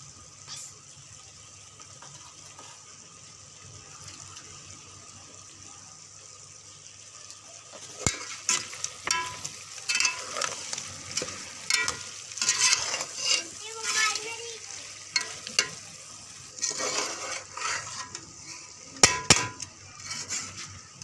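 Arbi (arrowroot) frying in a pan with ground spices and cumin, a soft steady sizzle that grows busier midway with clattering stirring strokes and utensil clinks.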